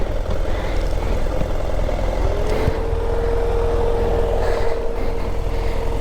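Motorcycle engine idling steadily while parking off-road in windy Baja desert terrain, a low rumbling drone mixed with gusts of wind, fairly loud and continuous.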